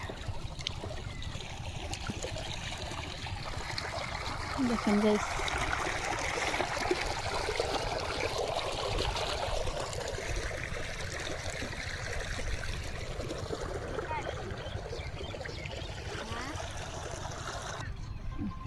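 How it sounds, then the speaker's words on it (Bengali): Water trickles and flows steadily into a rice paddy field outdoors, a continuous soft streaming wash with a voice speaking briefly over it. "ক্ষেতে পানি দিচ্ছে"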